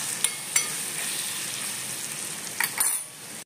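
Sambharo, a vegetable relish, sizzling and frying in a pan after salt is mixed in, a steady hiss with a few sharp clinks of a spoon against the pan.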